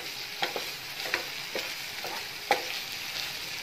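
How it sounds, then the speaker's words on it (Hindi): Chicken for shawarma browns in a pan with a soft continuous sizzle, broken by a few sharp scrapes and taps of a spatula stirring it. No one speaks. "ये देखिए माशाल्लाह से हमारा चिकन जो है वो कितने अच्छे से भून रहा है"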